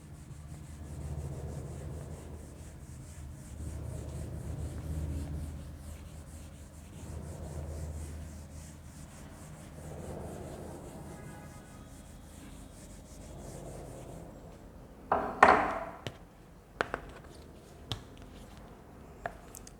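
Writing on a classroom board is rubbed out during a Class 10 trigonometry lesson, a series of soft rhythmic rubbing strokes for about fifteen seconds, followed by a few sharp taps and knocks.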